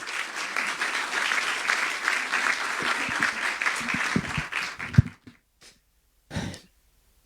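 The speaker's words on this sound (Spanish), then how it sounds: "con un fuerte aplauso recibimos a Alberto Mayol" A seminar audience applauds a guest speaker's arrival, a crisp crowd of clapping hands that carries for several seconds then stops abruptly, followed by near silence and a brief breath close to the microphone.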